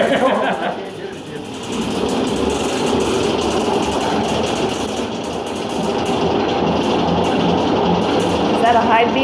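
A spinning honey extractor whirs loudly and continuously during a home honey harvest, a steady mechanical hum throughout, with people talking over it.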